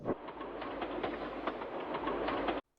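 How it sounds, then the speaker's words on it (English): A train rumbles steadily along the rails with a rhythmic clatter of wheels, close and continuous, ending abruptly. "the guard blew his whistle, the train left"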